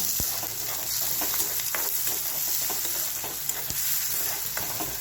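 Chopped onion and garlic sauté in a hot pan for a Marathi-style drumstick-leaf dish, sizzling steadily and close, with scattered clicks and scrapes from stirring.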